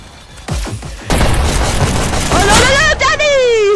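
Gunfire from a weapon in the video game Hyper Dash, with sharp broadband bursts and booms filling most of the clip, mixed with game sound effects and rising tonal chirps near the end.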